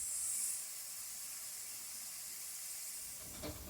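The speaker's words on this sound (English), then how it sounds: "put the shrimp in, and we're going to saute this just until the shrimps turn pink" Shrimp sautés in a hot pan beside zucchini for linguine, giving a steady, even sizzling hiss that carries on throughout, with a faint clatter near the end and no talk.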